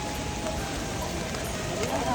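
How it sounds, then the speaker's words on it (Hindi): Heavy rain on the Kedarnath trek pours down as a dense, steady wash of noise, loud and unbroken for the whole moment. "और बहुत तेज़ बारिश हो रही है"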